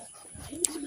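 Pigeons give a short, soft, low coo close by, brief and alone with light background noise.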